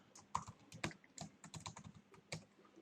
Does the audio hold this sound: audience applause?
no